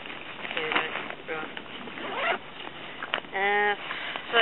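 The waterproof zip on a backpack's front pocket is pulled open in several short, scratchy bursts, close to the microphone, with quiet handling noise between pulls.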